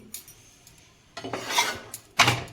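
Flatbread toasts in a pan with soft scraping and rubbing of a utensil against metal, in a few irregular bursts with quiet gaps between, close and moderately loud.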